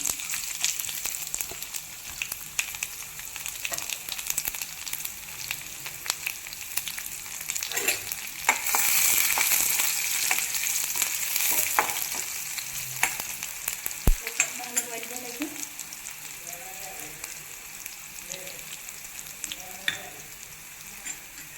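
Curry leaves and garlic sizzling in hot oil for a yellow curry, a close continuous crackling fry that swells loudest midway, with stirring clinks and a knock before settling to a quieter sizzle.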